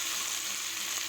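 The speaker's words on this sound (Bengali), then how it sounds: "এবার খুব ভালোভাবে কষাবো, কিছুক্ষণ সময় ধরে কষাবো।" Meat braising and frying in a pan gives a steady, close, dense sizzle that holds at an even level throughout, with no voices.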